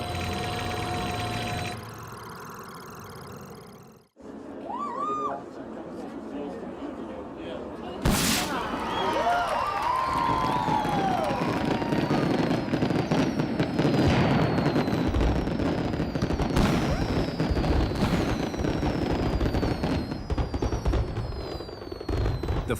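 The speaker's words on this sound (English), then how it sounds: "The fireworks burst into the night sky." Fireworks crack and boom repeatedly in the distance at the demolition of the Frontier Hotel casino in Las Vegas, with scattered bursts and crackling over a continuous rumble, and voices briefly at the start.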